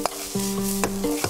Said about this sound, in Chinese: 下锅跟着一起翻炒。